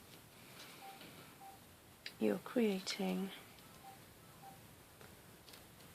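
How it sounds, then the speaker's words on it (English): Faint, evenly spaced electronic phone tones sound in the background of a home craft session of rubber stamping, with a brief stretch of speech in the middle. "that's my phone you can hear in the background"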